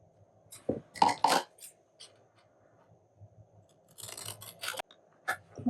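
Scissors trimming paper for a junk journal: two bursts of several quick, crisp snips, close and clear against a quiet room, with a short pause between them.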